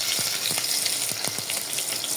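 Chopped onion dropped into garlic already frying in oil in a pan, a steady close sizzle with soft crackles and a few stirring scrapes, no talking.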